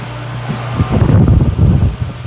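An electric fan runs on its high setting with a loud, steady whooshing hum, close to the microphone and heard alone in a kitchen.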